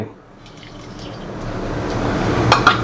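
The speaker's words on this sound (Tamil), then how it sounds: "இதில் கொஞ்சம் எண்ணெய் ஊற்றிட்டு" Cooking oil is poured into a pan while making mutton kuzhambu, a soft liquid trickle that builds gradually, with a couple of small clinks near the end and a voice faintly underneath.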